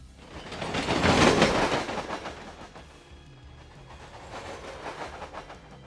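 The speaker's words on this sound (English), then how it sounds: "there's a short moment where a train goes overhead, which we can hear with the height channels isolated" A train passes overhead in a film soundtrack, a rumbling roar that swells to a loud peak within the first seconds, then fades to a softer rolling clatter with faint rhythmic clicks.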